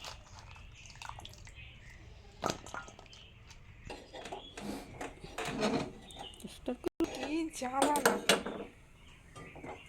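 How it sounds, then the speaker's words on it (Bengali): A wok (kadai) is set down on a home kitchen stove, giving a few dull metallic clunks and scrapes amid kitchen clatter, with a voice speaking at times. "কড়াইটা বসিয়ে দিচ্ছিলাম"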